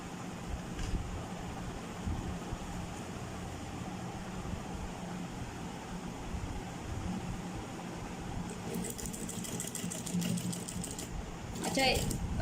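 A sewing machine stitches a strip onto a crochet bag, a faint steady mechanical whir running throughout, with a brief rapid clatter of stitching near the end.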